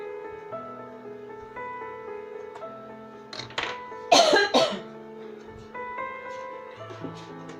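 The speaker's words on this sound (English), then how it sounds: "I just had a coughing spell." A woman coughs in a short fit of several harsh bursts, loud and close against a steady musical drone.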